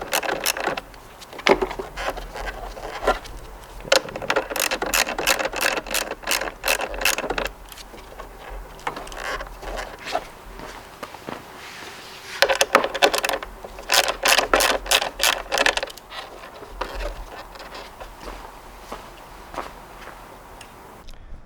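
A ratchet with a 10mm socket loosening bolts on a 2013–2018 Kawasaki Ninja ZX-6R, giving close, rapid bursts of clicking in several runs separated by short pauses.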